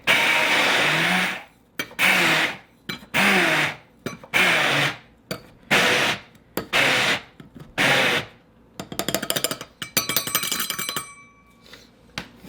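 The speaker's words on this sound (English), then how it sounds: "So we are gonna grind this oats up." A kitchen blender grinds oats in a string of short, loud on-off pulses, then finishes with a longer rattling run. No one speaks over it.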